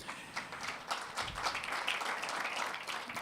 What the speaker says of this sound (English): another round of applause for those wonderful exhibitions we saw there